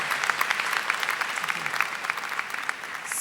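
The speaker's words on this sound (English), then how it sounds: "Please join me in a round of applause for their sharing of all of the innovative ideas that we might take home with us." Sustained audience applause for panelists at a nursing congress main session, a dense steady patter of many hands from a large hall, fairly distant.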